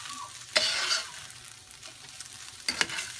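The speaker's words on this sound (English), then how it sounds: "So you just keep stirring it around until the shrimp is done." Shrimp fried rice is stirred in a hot pan, a steady close sizzle with two bursts of scraping as the spatula turns it, no voices.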